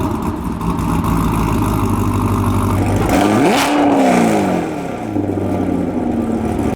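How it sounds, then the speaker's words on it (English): Car fitted with a custom trapezoid exhaust tip, a steady low exhaust rumble at idle that swells with a brief rev mid-way and then settles back, heard close with no talking. "Here's an exhaust clip."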